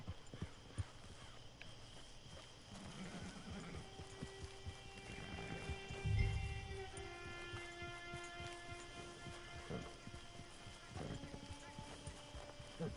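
Horse hooves clip-clop steadily at a walk in Red Dead Redemption 2, fairly close and quiet, with a brief whinny or snort midway and faint ambient tones behind.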